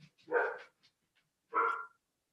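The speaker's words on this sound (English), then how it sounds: "I think we hear some puppy dogs." Dogs barking at a distance: two loud, separate bark bursts about a second apart, with faint yips between, and no talking.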